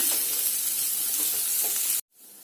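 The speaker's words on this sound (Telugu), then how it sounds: "పసుపు వేసుకోండి వేసుకొని కలిపేసుకోండి నెమ్మదిగా వేగుతూ ఉంటుంది" Bitter gourd slices frying slowly with turmeric in a pan give a steady, close sizzle throughout, then break off abruptly near the end before a quieter hiss resumes.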